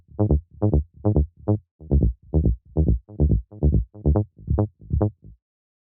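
Modern techno hard-groove synth bass built from a simple sawtooth oscillator in Ableton with the arpeggiator switched off, heard as a string of short, punchy repeated notes in an even pulse, dry and upfront, nothing else playing.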